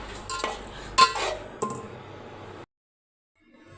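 Chicken macaroni being stirred in a cooking pot, with close scraping, clinking spoon-on-metal sounds and a sharp clank, stopping abruptly before a brief silence, and no talking.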